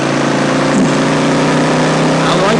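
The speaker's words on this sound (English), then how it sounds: "that exhaust note's actually really nice." A 2007 Yamaha V-Star 1100 Classic motorcycle runs with a steady, loud, low-pitched exhaust rumble that stays even throughout, with a slight rise in revs near the middle.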